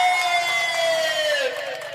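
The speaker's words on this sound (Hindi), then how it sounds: "मैं चाहूंगा सबके लिए एक बार जोरदार ताली आप लोग" Crowd at a political rally cheering and whooping loudly, voices merging into a sustained roar with high shouts gliding downward, steady throughout.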